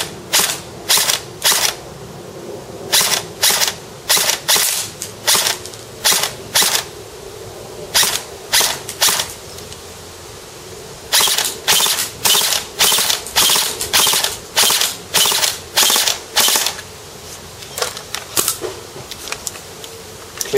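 G&P Magpul MOE custom mid-length M4 airsoft rifle firing on semi-auto, dozens of sharp, loud, close shots in uneven bursts with brief gaps.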